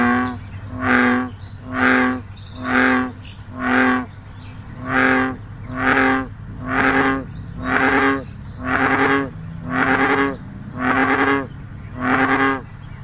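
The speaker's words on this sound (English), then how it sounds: "the bullfrog call is much deeper, louder, and more like a low rumbling sound" An American bullfrog calls in a steady series of about eleven deep, resonant droning notes, each roughly a second long and evenly spaced, loud and close over a low background hum.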